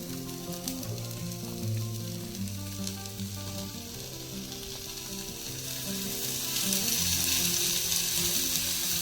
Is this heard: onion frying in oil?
yes